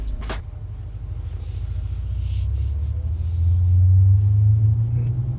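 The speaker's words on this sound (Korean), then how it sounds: "좀 전에 사운드를 켰습니다. 액티브 사운드 디자인을 켰는데" Cabin sound inside a Genesis GV70 electric car driving with active sound design switched on: a low synthetic hum swells and rises toward the end over steady road rumble, with a brief click near the start.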